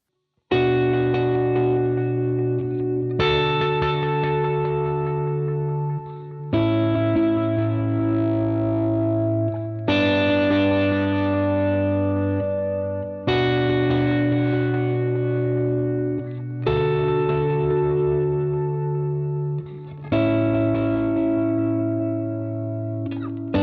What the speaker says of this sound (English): right now I have a dual delay set up right here that I really like